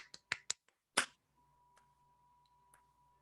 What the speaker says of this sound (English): that was like a sarcastic clap